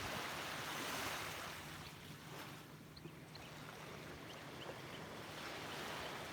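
Ocean surf washes onto a quiet off-season beach at sunrise, a soft broad rushing that swells and fades in the distance, with some wind buffeting and no talking.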